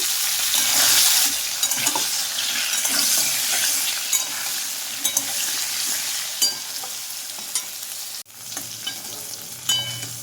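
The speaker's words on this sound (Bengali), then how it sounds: "এবার ওই তেলেই আমি দিয়ে দিচ্ছি পটলের টুকরোগুলো" Pointed gourd pieces fry in hot oil in a kadai, a steady crackling sizzle with scattered stirring scrapes and clicks throughout, no one speaking.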